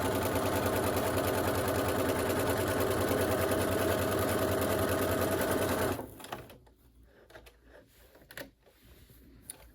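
A sewing machine runs steadily and loudly, stitching a seam through folded layers of fabric on a medical face mask, then stops abruptly, leaving faint handling noises.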